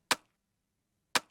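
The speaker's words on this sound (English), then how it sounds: "So you have these 3 individual clap layers that sound like this together." Two identical layered clap hits, a rim clap, transient clap and hand clap stacked together for an electronic track, each sharp and bright with a quick decay, separated by about a second of silence.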